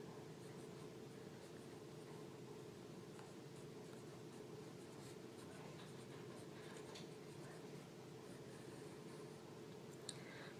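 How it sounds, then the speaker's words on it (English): Faint, steady scratching of an orange colored pencil writing on paper, close and quiet against a constant low hiss. "I'm going to use my orange colored pencil, I'm going to write the words absolute value."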